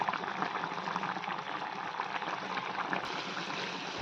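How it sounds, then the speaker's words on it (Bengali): Okra curry boils under a lid in a pot on the stove, a quiet, continuous bubbling and hissing texture without pause, close and steady. "আমার তরকারিটা বলক উঠে গেছে।"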